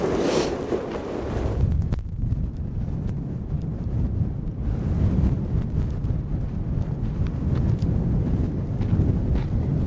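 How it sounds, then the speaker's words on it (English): Strong coastal wind at Paracas National Reserve, Peru, roars and buffets the microphone continuously, a loud broadband rumble with gusty surges throughout. "Very windy."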